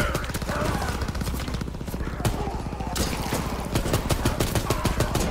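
Rifle fire in the shooter WW2 Zombies: rapid, regular cracks repeat steadily throughout, loud and close, over a dense background of game noise.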